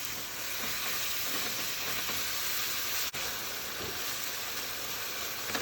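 Sliced apples with sugar and cinnamon cook in a hot pan, giving a steady close sizzle with soft stirring scrapes throughout and one brief sharp click partway through.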